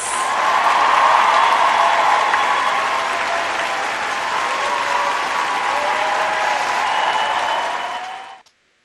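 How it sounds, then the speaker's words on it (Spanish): Sustained applause from a studio crowd, loud and steady for about eight seconds before cutting off abruptly. "palmas."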